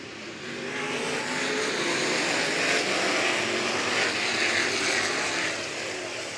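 Figure 8 race cars roar around the track at Showtime Speedway on a restart lap, a blended wash of engines heard from a distance, swelling and easing steadily without talk.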